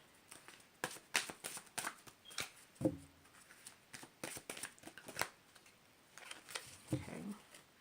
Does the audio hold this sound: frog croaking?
no